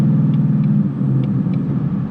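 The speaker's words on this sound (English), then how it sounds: "I hate these auto rev matches" Ford Mustang GT engine, an S550 V8, rumbling steadily from inside the car while driving, a continuous loud low drone with slight swells as the automatic rev matching blips the throttle.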